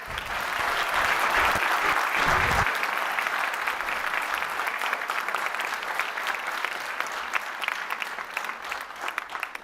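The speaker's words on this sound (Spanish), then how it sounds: "por favor un tremendo aplauso a Santiago Ormazábal y también a Nael Condel" A conference audience claps in loud, sustained applause that peaks early and then slowly thins into scattered clapping, with no voices over it.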